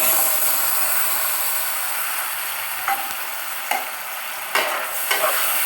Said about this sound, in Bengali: কাঁঠাল বিচিগুলো মশলার সাথে একটু ভাজা ভাজা হয়ে আসছে